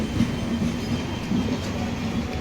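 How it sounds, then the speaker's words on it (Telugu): The Sabari Express from Thiruvananthapuram to Secunderabad runs slowly around a long curve, a steady rolling rumble of wheels and carriages with faint squeal and clatter throughout. "ఇది చాలా లాంగ్ కర్వ్ ఇది, అందుకోసం ట్రైన్ మెల్లకపోతుంది."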